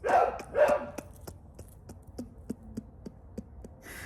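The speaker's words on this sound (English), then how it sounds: "The dog next door is saying her 2 cents." A neighbour's dog barks next door, at first two louder, fuller barks and then a long run of sharp, evenly spaced yaps at moderate distance, with little else around them.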